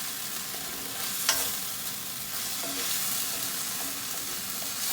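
Food sizzling in a hot pan, a steady hissing crackle with a single sharp tap of a utensil early on, fairly faint and with no talking.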